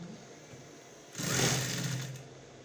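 A sewing machine top stitches the neckline of a butterfly bubu, running in one short, close burst of rapid whirring lasting about a second after quiet room tone.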